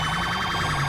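A police car siren in the video game GTA V wails loudly and close, its warbling tone cycling rapidly throughout, with no voices.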